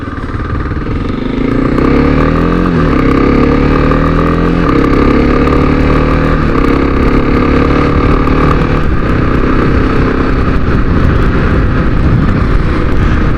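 A Kawasaki KLX 300 motorcycle on a ride with its windshield removed, the engine droning loud and steady throughout, pitch climbing and dropping through gear changes.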